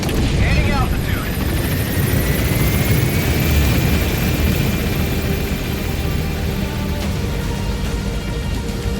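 Helicopter climbing in Metal Gear Solid V: The Phantom Pain, a loud, steady rotor and engine roar filling the whole stretch with a rising whine, while game voices speak over it.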